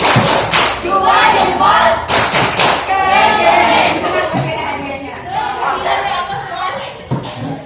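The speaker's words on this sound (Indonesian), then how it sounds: "Kasih tepuk keren" Schoolchildren perform the "tepuk keren" clapping routine in a classroom, loud rhythmic group claps and thuds mixed with children's shouting and chatter.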